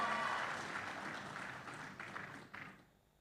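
Applause from an audience of mothers at a mass housing mortgage signing and key handover event in Serang, a dense clapping wash that fades out over a few seconds.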